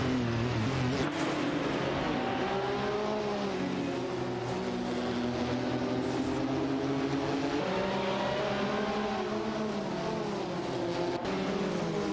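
Racing cars in a video game, including a Ferrari 50 GT and a Dauer 962 LM, roaring continuously at high revs with engine pitch rising and shifting throughout, loud and steady with no talk.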